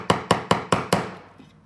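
Five quick, evenly spaced metal hammer strikes on wire for a wire-wrapped bracelet, each a bright, ringing tap that fades out, then a faint final tick after the series ends.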